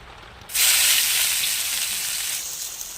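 Green chilies, onion and tomato drop into hot oil with cumin, setting off a sudden loud, broad sizzle that holds steady and fades only slightly, close up with no talk.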